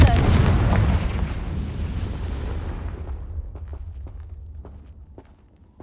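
A Confringo fire spell explodes in Hogwarts Legacy, a loud deep boom that rumbles and fades over several seconds, followed by light footsteps.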